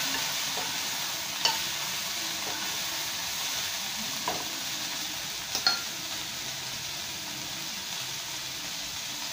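Chicken and broccoli stir-frying with thick soy sauce and oyster sauce hiss in a steady, close sizzle, while a utensil scrapes and taps against the pan a few times, with no talk.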